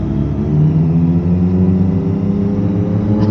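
A loud motorbike's engine drones steadily and close by for several seconds, a deep, continuous rumble with rising and falling pitch as it passes, heard against wind from a rider on the road.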